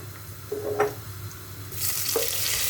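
Flour stir-fried in a pan for tarhana soup gives a soft, steady sizzle, with a few light scrapes early on and a louder hiss building near the end.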